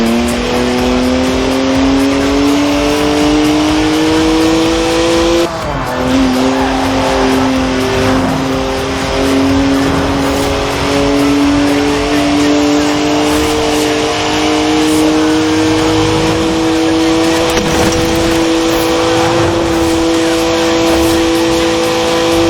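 A rear-wheel-drive BMW in Forza Horizon 4 drives and drifts with a loud, sustained engine note climbing steadily in pitch, a brief gear-shift dip, and tire noise mixed in, under occasional speech.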